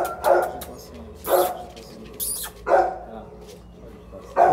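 A young female puppy barks in short bursts, four or five sharp yaps spread over a few seconds, close and fairly loud, during a visiting day at a dog kennel with people nearby.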